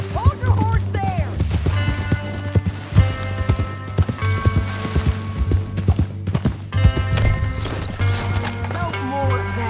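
Horse hooves clip-clop in Red Dead Redemption 2, a brisk, uneven run of close hoofbeats with occasional snorts, under spoken dialogue and a low musical drone.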